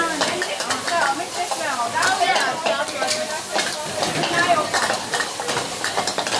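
Rice being stirred and broken up in a hot pan during a Thai cooking class, with steady sizzling and scraping throughout, joined by busy kitchen clatter and people talking nearby.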